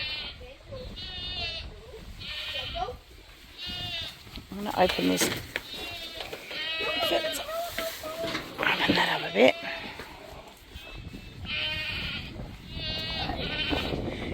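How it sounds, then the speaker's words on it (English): Goats on a small farm bleat repeatedly and loudly nearby, agitated with their matriarch out of the pen, overlapping calls rising and falling, while a person talks over them. "The noise behind us is the goats losing their cool because their matriarch is out of the pen."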